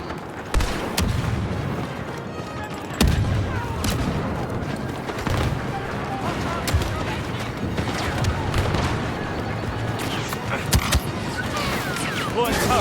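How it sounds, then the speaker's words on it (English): Grenade blasts and bursts of blaster gunfire in Star Wars Battlefront II on Tatooine, a dense, continuous battle din with sharp repeated shots and booms under voiced game callouts. "Grenade out!"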